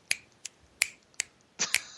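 Crisp poetry-style finger snaps ring out in a sparse, uneven rhythm, about six sharp snaps close up with quiet gaps between them.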